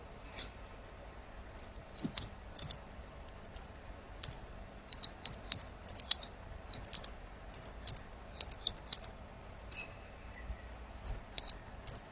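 Someone types a project name on a computer keyboard: irregular bursts of light, crisp key clicks with short pauses between them, close and clear in a quiet room.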